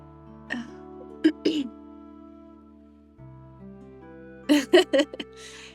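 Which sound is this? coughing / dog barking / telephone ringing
coughing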